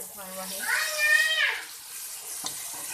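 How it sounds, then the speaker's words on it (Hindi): A light splash of water hits ground spices and garam masala in a hot pan while cooking chicken gobi curry, giving a brief rising sizzle that fades into a steady soft frying hiss, heard up close with no talking. "हल्का सा लगाएंगे इसको पानी का छींटा"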